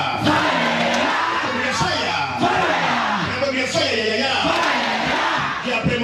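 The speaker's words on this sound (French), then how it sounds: "Quelqu'un peut crier soya ya ya ya." A church congregation shouts a rhythmic chant together during a prophetic worship service, a loud, dense crowd roar with repeated cries sustained throughout, voices layered over a steady low hum.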